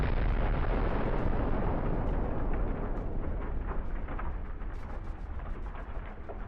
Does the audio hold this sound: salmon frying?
no